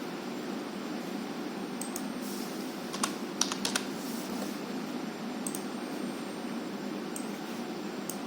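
Scattered keystrokes on a computer keyboard at a Windows PC, a handful of light clicks, some in quick pairs, set against a constant hiss of background noise.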